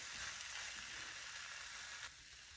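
Taco lasagna filling sizzling in a pan as it is stirred, a soft continuous frying hiss that drops slightly near the end, with no talking.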